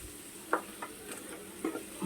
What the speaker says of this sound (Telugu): మసాలా కలిపిన పీతలు, అల్లం వెల్లిపాయ పేస్ట్, ఉప్పు కారం పసుపు అన్నీ కలిపాం